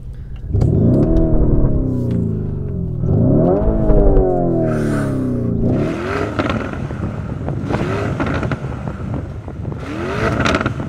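A Lamborghini Urus engine revs hard in three rising sweeps, then settles into a loud, throaty idle and burble, close by.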